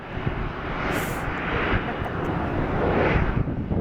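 A Brussels Airlines Airbus A330's jet engines roar loud and broadband close by, a steady rushing thrust with wind buffeting across the microphone.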